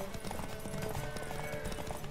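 Horse hooves gallop in a race in The Witcher 3 video game, a fast, steady clip-clop rhythm running continuously over game music, moderately loud and close.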